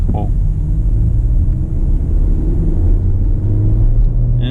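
A 2020 Skoda Octavia's 1.5-litre engine drones under hard acceleration with the pedal floored, a loud steady low rumble heard from inside the cabin, rising slightly in pitch over a few seconds.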